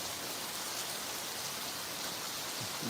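Torrential rain hammers down around a house, a thick, unbroken roar of water that holds at full strength from start to finish.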